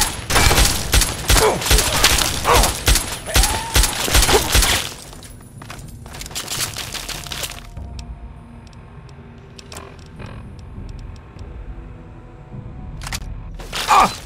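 Rapid gunfire in the Fallout 3 video game expansion The Pitt, dense bursts of shots for the first few seconds, then sparser single shots and a final burst near the end, loud and close.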